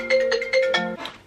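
A phone ringtone for an incoming call plays loud and close: a bright repeating melodic chime of several short tones in a steady rhythm, heard alone.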